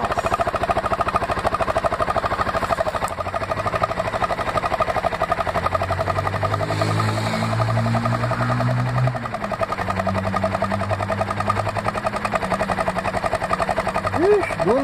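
A Honda Bros motorcycle engine runs steadily close by with a continuous rhythmic chugging idle, a lower engine tone rising beneath it partway through.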